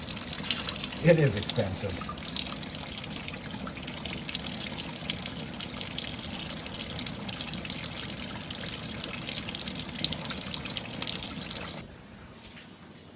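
Running water gushing and splashing while a container is rinsed out during a rust removal job, a steady close pour that stops abruptly near the end, with someone speaking briefly over it.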